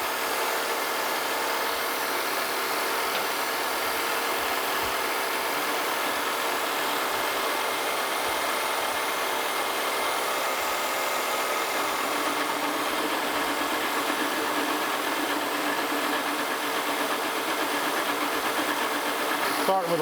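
A milling machine face milling steel steam locomotive spring hangers with coolant running, a steady close mechanical hum and whir with faint rhythmic ticking that holds evenly throughout.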